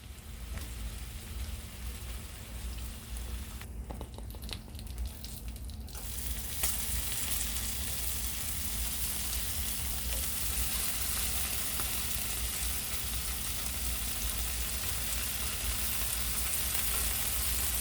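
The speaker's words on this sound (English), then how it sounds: "Got it frying now." Cut bacon sizzles steadily in a frying pan over medium heat, a dense, even crackle and spatter that grows slightly louder partway through and carries on alone without talk.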